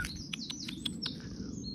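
Garden birds, with a blackbird among them, chirp at feeding time in a garden, giving short high repeated tweets at a steady moderate distance over a low rumbling background.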